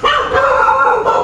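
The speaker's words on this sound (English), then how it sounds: "All the beach dogs hassling Lucy." Dogs on a beach bark and yip in a dense, continuous chorus that stays loud and close for the whole stretch, with no pause between the calls.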